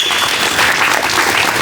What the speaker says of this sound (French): donc on va t'applaudir quand même